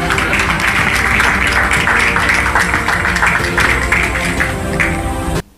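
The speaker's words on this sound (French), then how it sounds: "Applaudissez pour l'animateur." A live studio audience claps steadily for the show host, dense continuous applause holding for several seconds before cutting off abruptly.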